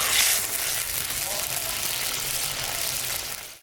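Pangas fish dropped into boiling curry gravy in a home kitchen, giving a steady bubbling sizzle that holds at a constant level and cuts off at the end, with no talk.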